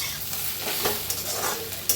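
Okra (bhindi) being dry-roasted and stirred in a kadhai until no longer sticky: a steady close sizzle with repeated spatula scrapes and stirring strokes, no voices.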